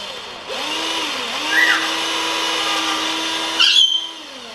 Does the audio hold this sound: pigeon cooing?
no